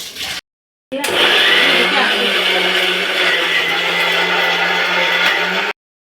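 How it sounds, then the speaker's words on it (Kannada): A kitchen mixer grinder whirring loudly as it grinds masala spices for a mutton curry, starting with a short pulse, then running steadily for several seconds before stopping abruptly. "ಇನ್ನೊಂದು ಸ್ಟ್ರಿಪ್ ರುಬ್ತಾ ಇದ್ದೀವಿ"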